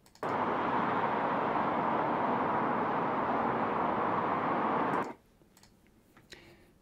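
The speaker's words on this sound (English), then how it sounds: "And I have a city traffic one as well." City traffic ambience loop for a game: a steady, broadband wash of traffic noise holding at constant loudness for about five seconds, then stopping abruptly and leaving faint, sparse background sounds.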